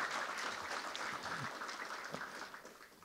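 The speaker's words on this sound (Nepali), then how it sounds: "the proud parents deserve a round of applause" An audience applauds the proud parents at a student ceremony, a steady full wash of clapping that holds for about three seconds and eases slightly at the end.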